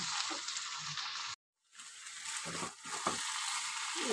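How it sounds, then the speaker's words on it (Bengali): Banana flower and prawns being stir-fried together in a pan, a steady broadband sizzle with scraping stir strokes, briefly cut off near the start and resuming, close and alone. "মিশিয়ে নিয়ে কষাতে থাকবো যতক্ষণে আমার হয়ে না আসবে"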